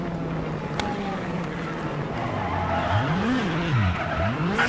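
WRC 8 rally car braking hard into a hairpin on the Monte Carlo tarmac stage, engine note dropping and rising as revs swing, with tire scrub and skidding under steady loud road noise.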